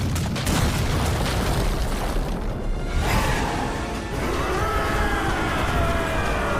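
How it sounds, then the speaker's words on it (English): A continuous roar of heavy explosions at the base of a castle wall, rumbling booms dense and loud throughout, with crashing debris layered on top. "the orc troops are able to penetrate the walls of a castle thanks to some well-placed explosions"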